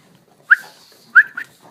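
A pug and a boxer, excited pet dogs, give two short high whimpering whines close by, the second followed by a brief softer yelp, with quiet room tone between.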